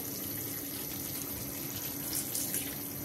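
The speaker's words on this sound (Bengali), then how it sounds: "এখন আমি পানি দিয়ে দিব" Water pours steadily into a pot of farm chicken curry with potatoes, a continuous close splashing rush that holds an even level for the whole stretch.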